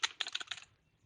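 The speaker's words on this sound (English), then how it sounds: "Here's some snapping and some typing." A few crisp finger snaps and quick taps on a computer keyboard, close and fairly quiet, lasting about half a second before fading into near silence.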